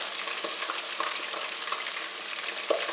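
Chicken pieces bubble and sizzle in hot oil during the second fry for orange chicken, a close, steady crackling hiss with small pops scattered throughout, no voices.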